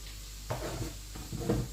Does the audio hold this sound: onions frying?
yes